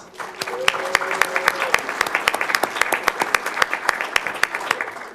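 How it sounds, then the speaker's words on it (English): A small audience at a city council meeting claps steadily for several seconds for a student, a lively patter of applause with a brief tone and murmuring voices underneath. "Let's give Haley a round of applause"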